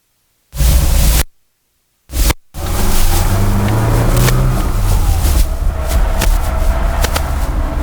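A 1983 Lada VAZ 2106 car accelerates while driving, with an engine drone and rising, shifting tones under loud wind and road rush after two short opening bursts of sound.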